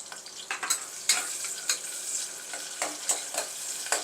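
Onions and green chillies sizzling in a pan, a bright crackling fry broken by repeated scraping stirs that come in short bursts every half second or so.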